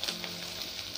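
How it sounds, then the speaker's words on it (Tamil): Crushed garlic and curry leaves frying in hot oil with onions, giving a steady close sizzle with faint crackles throughout a brief moment, no voices. "இடித்து வச்ச பூண்டு, கருவேப்பிலை, பூண்டோட பச்சை வாசனை போகிற வரைக்கும் ஃப்ரை பண்ணிக்கோங்க"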